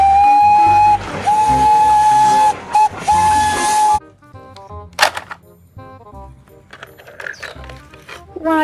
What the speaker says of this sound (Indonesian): Wow, ini ada kereta Thomas.